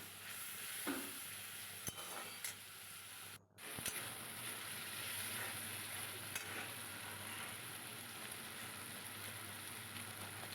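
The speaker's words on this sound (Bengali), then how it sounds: "এবার কষিয়ে নেব এবার যে টমেটো কুচি ছিল ওটাও দিয়ে দিলাম" Chopped tomato fries with spiced taro in a pan, giving a steady, quiet sizzle with occasional soft stirring scrapes and a brief dropout partway through.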